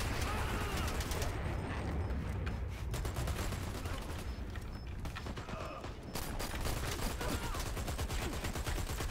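Dense rapid gunfire from the online shooter game Dirty Bomb rattles almost continuously for several seconds, mixed with mechanical clatter, at a low overall volume.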